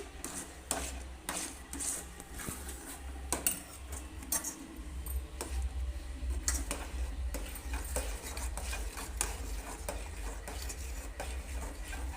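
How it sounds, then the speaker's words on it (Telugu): Bombay Karachi halwa is stirred in a pan over low heat, giving a continuous scraping and stirring sound punctuated by frequent sharp clicks and taps of the spoon against the metal. "సిమ్లో పెట్టుకొని తిప్పుకుంటానే ఉండాలి"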